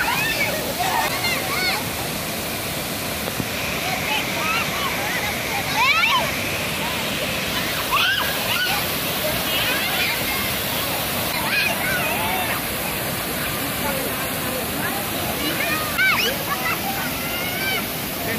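Steady roar of a strong waterfall pouring into a swimming pool below, with sloshing water close by as someone swims toward the falls; broadband rushing continues without a break, with voices faintly underneath.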